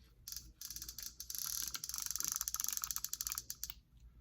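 Kastking Sharky 3 or Penn spinning reel with its drag and bait feeder engaged, producing a rapid, close ratcheting click that speeds into a dense, steady buzz of tiny metallic ticks, no voices.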